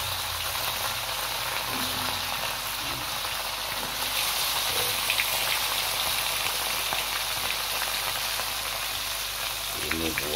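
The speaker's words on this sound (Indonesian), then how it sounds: "panasin minyaknya, mau goreng ikan timbang" Salted timbang fish frying in hot oil, a steady dense sizzle and crackle that holds evenly throughout, close and moderately loud, with faint background noise.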